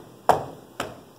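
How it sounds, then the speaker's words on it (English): Two distinct thumps of feet stomping, about half a second apart, short and close at a children's storytime sing-along, each with a brief decay into quiet. "we're going to stomp."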